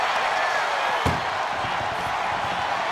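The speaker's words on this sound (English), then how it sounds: "Trying to force the first door closed." In WWE 2K25, an ambulance door in the arena is forced shut with a single sharp slam about a second in, set against a constant loud roar from the crowd.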